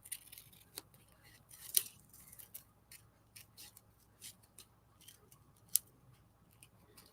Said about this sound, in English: Let's just cut that off.